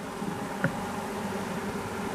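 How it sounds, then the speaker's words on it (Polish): A steady, low insect hum fills the clip, like many bees droning together close by around a hive, with one brief faint knock partway through. "Widzę, że pszczoły siedzą po całym ulu."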